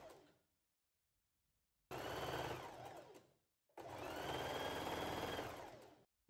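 Sewing machine stitching a fabric hem 9 mm from the edge of a skirt rectangle: two loud, steady whirring runs of rapid stitching separated by a pause, with no talk.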